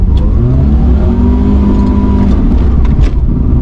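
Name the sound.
BMW E21 car revving with wheels spinning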